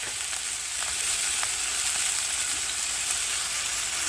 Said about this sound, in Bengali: আর এখানে তেলটা ভালো রকমভাবে গরম হয়ে গেছে, তো এখন চাউমিনটা করব